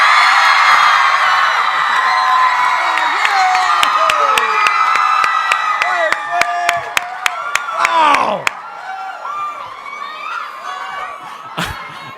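A loud Comic Con 2015 panel crowd in New York screams, cheers and whoops continuously, with sharp claps and shrieks rising over the roar, while an announcer talks beneath the din.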